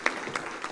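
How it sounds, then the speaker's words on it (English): Audience at a labour activation programme project launch applauding, a brief steady patter of many hands clapping at moderate volume, no talk. "Another round of applause, ladies and gentlemen"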